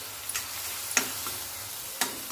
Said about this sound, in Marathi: ही पण थोडीशी तेलामध्ये आपल्याला भाजून घ्यायची हिरवी मिरचीची पेस्ट